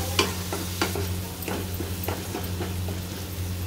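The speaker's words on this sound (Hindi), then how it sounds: "अब सब चीज़ों को अच्छे से भून लेते हैं हम।" A spatula stirs spices and Kashmiri red chilli powder with leftover roti in a hot pan, scraping in several clear, irregular strokes over a steady low hum, close and moderately loud with no talking.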